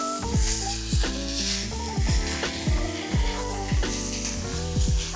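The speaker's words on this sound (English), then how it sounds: "Now let's add the pork and cook it until it starts to brown." Pork browns in a hot pan for Filipino adobo, a steady close sizzle and crackle of frying meat with an even rhythm and no voice.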